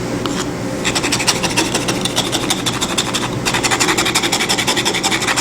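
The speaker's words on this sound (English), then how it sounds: "to scratch both the traditional concrete paver and the AZEK VAST paver, simulating what lawn furniture or yard tools might do on a concrete paver" A traditional concrete paver and an AZEK VAST PVC paver being scratched, giving a loud, close, rhythmic rasping scrape in quick repeated strokes with a short pause midway.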